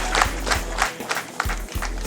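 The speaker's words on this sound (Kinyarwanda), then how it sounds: "umuntera amashyi" Wedding guests clap together in a quick, rhythmic pattern, with a crowd murmuring underneath in a short burst of applause.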